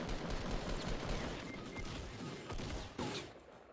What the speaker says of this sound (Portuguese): Tem um cara, tá atirando em mim.